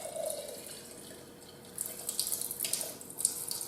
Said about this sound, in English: we have to pour some water in this to get it started.